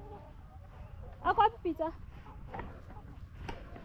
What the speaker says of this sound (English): part is for the cocks, the roosters only, and we have our layers in a different partition